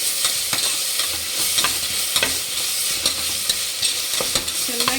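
Ginger garlic paste frying in oil for hotel-style egg biryani, a dense close sizzle with repeated spatula scrapes and stirring strokes throughout, no voices.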